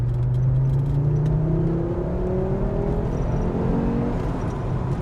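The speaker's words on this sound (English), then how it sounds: "He's got a slightly bigger turbo on this one. And you can feel it's way louder than the other one." A turbocharged factory sleeper car pulls hard in second gear from 2,500 RPM, its engine note rising steadily and loud from inside the cabin, with no talk over it.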